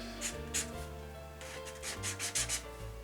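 Copic marker chisel tip rubbing over paper in short, close scratchy strokes above a steady low hum.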